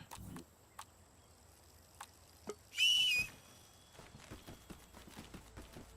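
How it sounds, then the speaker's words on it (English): A loud, sharp whistle, blown in a video game to call a mount, rings out alone for about half a second, surrounded by soft hoof-like clip-clop taps and scattered footsteps. "No summoning. Just extremely loud whistling."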